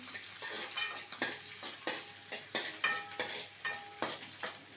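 Onions frying in a pan for egg tomato fried rice give a quiet steady sizzle, punctuated by regular scraping stirs of a spoon close by.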